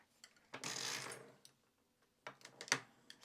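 A hand-cranked circular sock knitting machine working a heel, giving a longer whirring mechanical rattle followed by several short clicking, ratcheting bursts, fairly quiet and close.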